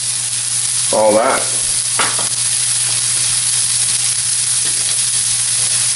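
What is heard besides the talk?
shallots and garlic sizzling in oil with popping mustard seeds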